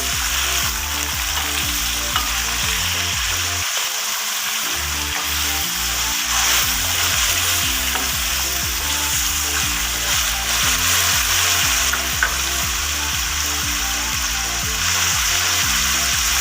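Sliced potatoes frying in a pan and being stirred, a loud continuous sizzle with repeated scraping strokes of a spoon, close and steady throughout, with one brief pause in the stirring early on and no voices.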